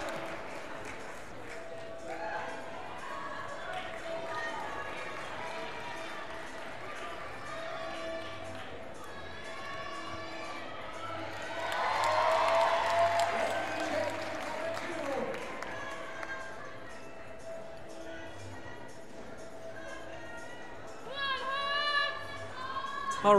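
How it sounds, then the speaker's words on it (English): Spectators at a youth bouldering national finals cheer and applaud after a climber tops a problem, a swelling wash of crowd noise that peaks midway, with a commentator talking throughout. "And the crowd goes wild."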